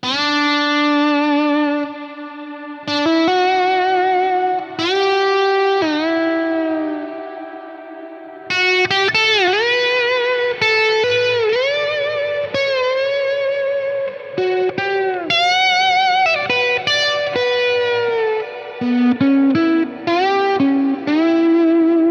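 Electric guitar playing a slow, dramatic ballad line through a huge hall-type reverb on a Source Audio Ventris pedal, sustained notes and chords blooming into long, washing tails, loud and continuous with no talking.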